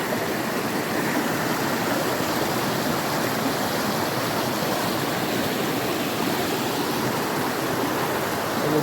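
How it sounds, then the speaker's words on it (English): A strong river current rushes steadily past a farm, the search along its banks aimed at a spring water source; the broad, even roar of flowing water holds constant and fairly loud throughout, with no voices. "It will be a bit hard to cross with the strong current, river flow."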